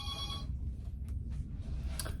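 A telephone bell rings in a quick trilling burst at the start, then cuts off, leaving low room rumble with a few faint clicks and knocks.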